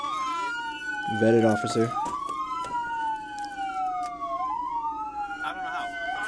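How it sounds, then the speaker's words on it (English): A police car siren wails and sweeps up and down steadily throughout, with a brief yelp burst early on and people talking over it inside the vehicle. "Turn the sirens off."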